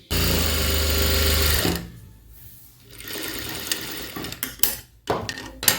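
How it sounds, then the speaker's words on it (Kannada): A sewing machine runs in a steady, loud whir while stitching down the center of a folded fabric strip for buttonholes, then stops, followed by quieter handling clatter and short bursts of movement. "ಈ ಥರ ಸೆಂಟ್ರಿಗೆ ಸ್ಟಿಚ್ ಹಾಕಿ."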